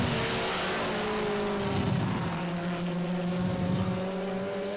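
Race cars roar around the oval at Baer Field Motorsports Park during the Memorial Day Weekend Spectacular, a steady loud engine drone with overlapping pitch lines from several cars passing without a break.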